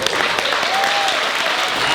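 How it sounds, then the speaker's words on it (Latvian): Audience applause at the close of a song at a masked singing show, a dense, steady wash of clapping filling the room, with voices shouting over it. "Aplausi, aplausi, aplausi!"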